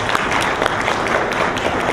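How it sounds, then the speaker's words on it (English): Audience applause at a business conference on doing business in Guyana, steady dense clapping from a seated crowd sustained throughout with no voices breaking through. "Applause for the Private Sector Commission."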